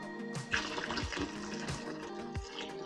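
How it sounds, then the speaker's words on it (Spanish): Water is poured into a pot of traditional Mexican ponche, splashing and gurgling quietly with small clinks and knocks from the pot. "Agregamos un poquitín más de agua."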